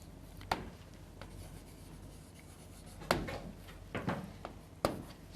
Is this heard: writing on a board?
yes